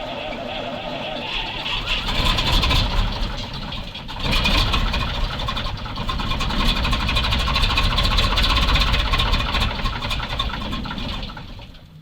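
A Soviet MAZ crane truck's engine cranks and catches, then settles into a loud, steady, rough idle rumble that fills the whole clip, with a brief dip partway through.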